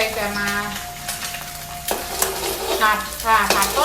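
Close, loud sizzling and stirring as sunflower sprouts are stir-fried with egg tofu in a pan, a steady hiss with scraping stirs and no speech.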